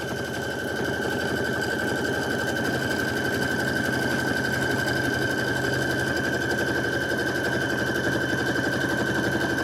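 A sewing machine runs continuously at a steady fast rate while background quilting is stitched, a close, even mechanical whir with a constant hum and no pauses.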